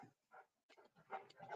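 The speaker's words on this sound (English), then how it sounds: "I'm sorry, my dog's whining," A pet dog whines indoors in short, faint, high-pitched bursts, several broken whimpers in quick succession with no talk over them.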